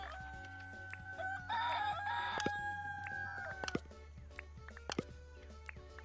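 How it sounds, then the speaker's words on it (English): Roosters crowing on a farm in the video game Dinkum, a long cock-a-doodle-doo call followed by scattered clucks and small clicks over a low steady hum, moderately close. "Those roosters now."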